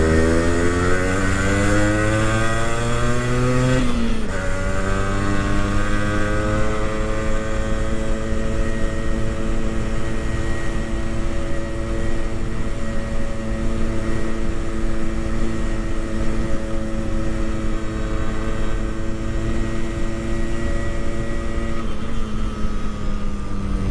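Yamaha RX two-stroke motorcycle engine running steadily while riding, a loud continuous harmonic drone that dips briefly as if shifting gear near four seconds, then holds a constant pitch throughout with no talking.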